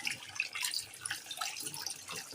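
Dishes being washed under running tap water in a home kitchen sink, a steady close splash and trickle with light clinks throughout, no voices.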